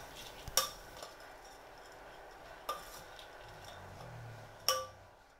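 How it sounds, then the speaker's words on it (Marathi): A spoon stirs matki bhel with chaat masala and salt in a large plate, giving a few faint, sparse metallic clinks and soft scraping in a quiet room. "चाट मसाला आणि चवीनुसार मीठ मिक्स करूयात."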